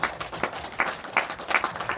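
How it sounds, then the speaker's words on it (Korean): An audience at an academic forum applauds after a keynote lecture, a dense wash of clapping hands that stays full and lively throughout. "큰 박수 부탁드립니다"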